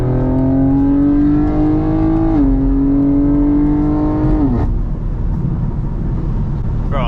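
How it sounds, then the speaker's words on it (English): A BMW X3M with the S58 engine and an exhaust free of rasp revs loud and close, its pitch climbing steadily, dipping on a shift, climbing again, then dropping off to a smooth rumble. "Just having no rasp makes the S58 sound so much better."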